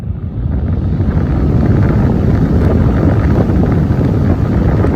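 A vintage Emerson hassock fan running on full high gives a loud, steady broadband whoosh of rushing air with a low rumble, continuous and unchanging throughout, with no voices.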